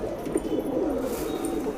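Madrasi pigeons, a pair of birds, give a soft, steady low cooing that runs continuously through the short stretch, close by and moderately loud.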